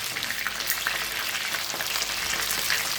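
Chicken wings frying in hot oil, giving a dense, even, close sizzle with fine crackling that holds steady for the whole stretch, no voices.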